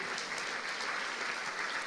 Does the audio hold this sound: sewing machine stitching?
no